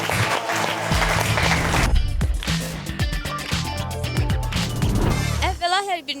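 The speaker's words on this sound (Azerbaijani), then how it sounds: "Və alqışlar gəlir. Alqışlar!" A studio audience bursts into sustained applause at the start of a television comedy show's new season, loud and dense beneath music and a host's voice, fading near the end.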